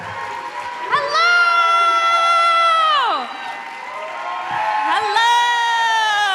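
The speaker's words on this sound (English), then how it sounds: "welcome to the stage with a thunderous round of applause" A theatre audience at a live science podcast show at the Alberta Rose in Portland cheers and whoops loudly as the hosts come on stage, with voices calling out over sustained crowd noise.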